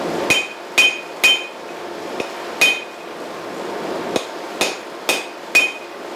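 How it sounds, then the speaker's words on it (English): Hammer blows ring out on a steel workpiece against the corner of a 66-pound VEVOR anvil, about nine sharp metallic strikes in an uneven rhythm with bright ringing tails, close and loud with no talk. "forge it around the corner of the anvil"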